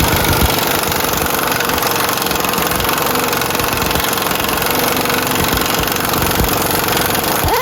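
Pneumatic impact wrench hammering on a bolt during a trailer axle replacement, a loud continuous rattling drone with no pauses from start to finish.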